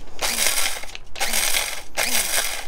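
A blade coffee grinder whirs while being shaken, three loud bursts of harsh grinding about a second apart, each with a rattling jolt of beans and short gaps between.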